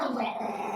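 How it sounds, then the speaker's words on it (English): A dog gives a short, low growl, faint and brief, lasting under a second. "Well, your dog's there."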